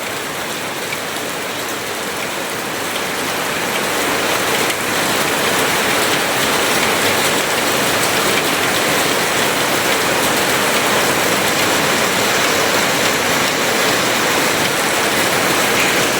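Heavy rain pours down in a dense, loud, unbroken roar of drops hitting surfaces, swelling slightly after the first few seconds and continuing steadily with no voices.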